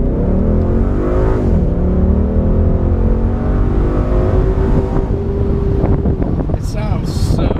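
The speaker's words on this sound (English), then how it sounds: "The engine sounds fantastic." A 2016 Ford Mustang GT Convertible V8 on the road, its engine droning steadily with rising and falling tones as it accelerates, heard close over heavy wind noise.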